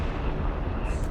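Heavy artillery barrage in the World War II strategy game Company of Heroes 3, a dense, continuous low rumble of overlapping distant blasts with no clear gaps, steady and loud for about a second.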